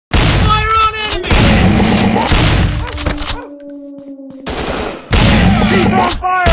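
Gunfire in a commando-style first-person shooter video game with shotgun play: loud bursts of rapid shots in two busy stretches, separated by a quieter gap carrying steady tones, with game voice sounds mixed in.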